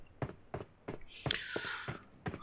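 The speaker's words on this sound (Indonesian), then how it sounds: "ada suara step" Footsteps in PUBG Mobile, a run of distinct soft thuds at a steady pace, fairly close. A brief hissy burst of noise passes midway through the steps.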